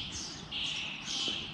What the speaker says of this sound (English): Do you know what kind of birds those are? Called starlings.